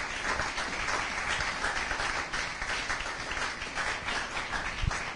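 A church congregation applauds throughout, a steady dense wash of many hands clapping at moderate distance, with faint murmur underneath and one louder thump near the end.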